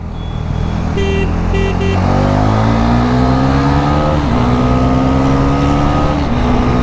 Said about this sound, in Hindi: We are on the brand new NS400Z। चलो, सेकेंड गियर